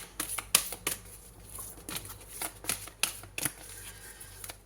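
Tarot cards shuffled and drawn: a steady run of crisp papery riffles and flicks close to the listener, with soft slaps throughout over a faint background hum, and nobody talking.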